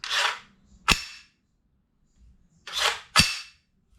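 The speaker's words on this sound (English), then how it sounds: "since this thing is full steel, let's hear the full travel bolt for ourselves." Two metallic bolt cycles on an all-steel E&L AKS74U airsoft rifle, each a sliding rasp pulled back then a sharp clack forward, close and crisp with a pause between.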